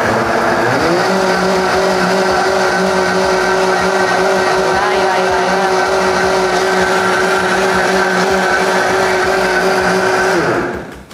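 A blender grinds a peanut mixture for a mazapán gelatin dessert, its motor whining loud and steady after a brief speed rise, holding a constant pitch before cutting off at the end.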